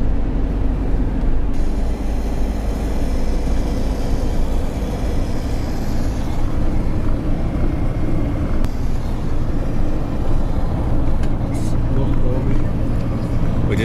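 A camper van drives past Loch Lomond with a loud, steady engine and road rumble heard from inside the cabin for the whole stretch, and there is a hint of speech over it.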